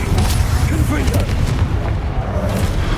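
Fire spell blasts from the Hogwarts Legacy video game, loud booming bursts over a dense, continuous battle din lasting the full few seconds.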